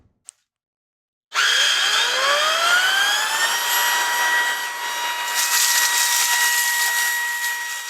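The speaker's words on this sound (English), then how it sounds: "Let's try the Ryobi here. And I'm going to be doing this on high." Ryobi One+ cordless stick vacuum switched on at its high setting: a brief click, then the motor spins up with a rising whine and settles into a loud, steady drone that runs to the end.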